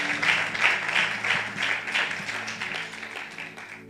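Church congregation applauding and cheering loudly in praise during a worship service, with dense steady clapping and raised voices sustained throughout.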